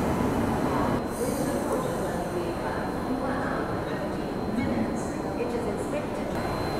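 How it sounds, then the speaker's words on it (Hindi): A Rajdhani Express departs Kanpur, heard from on board with a loud steady rumble of wheels on rails and faint squeals, while a voice talks over it. "ये देखिए, बिल्कुल पैरेलल में अब हमारा डिपार्चर हो रहा है और इसका अराइवल हो रहा है।"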